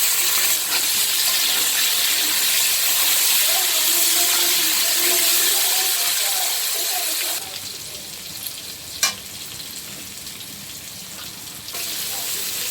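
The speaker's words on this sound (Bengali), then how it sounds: "এবার এদিকে বেগুনগুলোও ভেজে নেব।" Brinjal (eggplant) pieces frying in oil: a loud, dense sizzle for several seconds that drops to a quieter bubbling fry, with a single sharp clink partway through.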